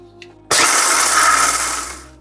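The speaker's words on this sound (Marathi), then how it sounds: "एक वाटी शेंगदाणे घेते आणि याला भरड अशी बारीक करते" A mixer grinder coarsely grinds a bowl of peanuts, starting abruptly and whirring loud and steady for about two seconds before easing off slightly, with no talk.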